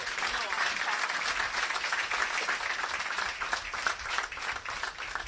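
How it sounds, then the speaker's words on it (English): A lecture audience applauds steadily, a dense wash of clapping that stays even for several seconds. "he deserves another round of applause"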